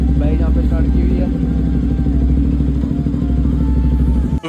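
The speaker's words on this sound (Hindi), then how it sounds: "तो बाइक यहाँ पे स्टार्ट की हुई है" A Bajaj Pulsar RS200 motorcycle engine runs steadily at idle during a workshop service, close and loud with a continuous low rumble and mechanical clatter, and a voice talks over it.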